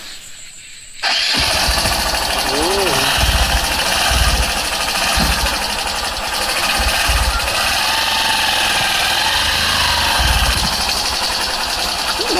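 A motorbike engine starts abruptly and then runs loudly and steadily, with a rough, knocking idle that fills the rest of the moment.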